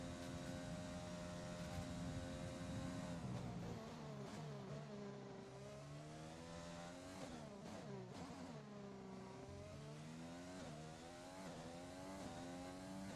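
A race car engine screams through an onboard lap of Silverstone in a racing game, revving high and shifting through gears with rising and falling pitch sweeps, loud and close with no talk.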